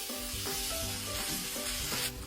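Shallots, chilies and a piece of tofu, ground and sautéed in a pan until fragrant, sizzle and crackle steadily and close up, a dense continuous frying hiss with faint stirring, no voices.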